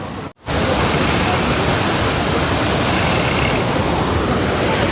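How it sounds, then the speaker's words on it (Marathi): Randha waterfall on the Pravara river at Bhandardara roars as a loud, steady, broadband rush of falling water, briefly dipping at the very start before holding a constant, close wash of sound. "रंधा धबधबा"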